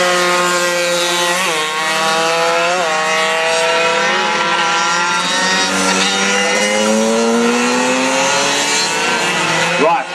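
Race cars drive a track with a tunnel, their engines screaming loudly and continuously with rising and falling pitch sweeps as gears change and cars pass close, while a commentator talks over the noise.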